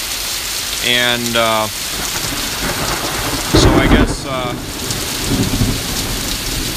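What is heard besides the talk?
heavy rain with thunder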